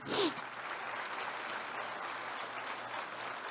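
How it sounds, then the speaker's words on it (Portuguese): An audience at a lecture event claps continuously, a soft, steady patter of many hands at a distance, after a brief louder burst at the start. "Uma salva de palmas para a nossa amiga."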